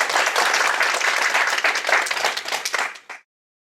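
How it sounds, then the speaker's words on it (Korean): Audience clapping at a Korean open-house industry event after a guest speaker's talk, a dense, lively round of applause that thins into a few scattered claps and stops abruptly near the end. "다시 한번 박수 부탁드립니다"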